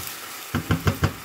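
Brown sugar syrup gets mixed into chopped pineapple for chutney, giving four quick, evenly spaced knocks of a utensil against the bowl, close and fairly loud.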